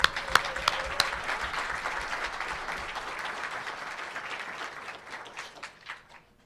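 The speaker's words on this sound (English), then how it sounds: "Let's give them all a round of applause" A board of commissioners meeting audience gives a round of applause that is steady at first, then thins to scattered claps and fades out.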